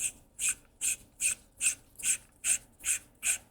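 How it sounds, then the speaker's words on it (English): A Starkiller lightsaber handle is unscrewed from its hilt in nine evenly spaced scraping, rasping turns of threaded parts, close and fairly quiet with no talking. "Put this back into the blade socket, and again, come over here and just unscrew our handle."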